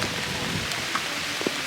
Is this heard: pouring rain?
yes